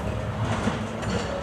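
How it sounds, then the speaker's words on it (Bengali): An amusement park ride train rolling past at Wonderland Amusement Park in Badda, a steady rumbling, clattering run of wheels on track lasting throughout, fairly close and continuous with no talk over it. "দেখছেন ট্রেন যাইতেছে"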